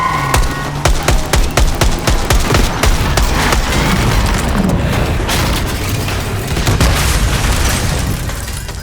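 Gunfire rakes a limo coming down a street in the video game Black Ops 6. Rapid bursts of shots open the scene, then give way to a loud, sustained barrage of booming fire and impacts.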